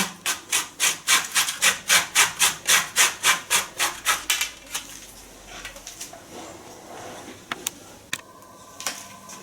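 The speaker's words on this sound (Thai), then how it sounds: "เราก็จะเอามาขูดเป็นเส้นขนาดนี้นะคะ" Peeled cassava is grated into strands for a Thai dessert, a rapid series of rhythmic rasping strokes close up that then give way to quieter, sparse scraping and a few light knocks.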